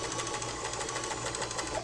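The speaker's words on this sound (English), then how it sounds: "You'll be the one propelling this through the unit of the sewing machine." A sewing machine runs steadily and close up while stitching the header line of yarn fringe, giving a dense, continuous mechanical whir with rapid needle clatter.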